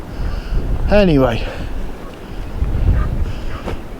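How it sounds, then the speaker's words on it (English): Strong wind on James's Island buffets the microphone in gusty low rumbles throughout, with someone briefly speaking over it. "It's well too windy for the drone"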